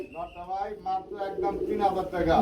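Soft, low cooing from a large male Gazi pigeon close by, repeated under steady talking from a person nearby at a pigeon sale.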